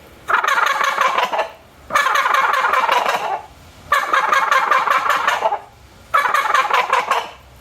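Four rapid, rattling turkey gobbles from a Thunder Twister gobble call sound in close succession, each about a second and a half long with brief pauses between, loud and near.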